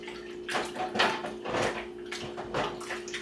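Hands sloshing and splashing in a sink of bleach-laced dishwater, several close, wet swishes in uneven bursts with a steady hum underneath.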